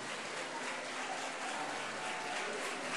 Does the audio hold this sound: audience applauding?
yes